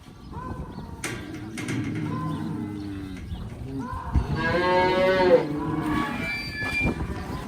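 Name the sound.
cattle mooing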